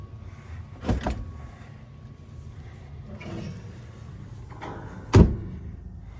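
A sturdy door is moved and closed, giving two distinct thumps, a moderate one early and a louder, sharper bang near the end, with low rattling and shuffling between them.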